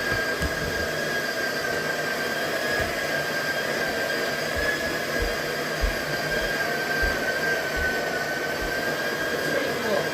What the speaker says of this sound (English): Watching coffee grind.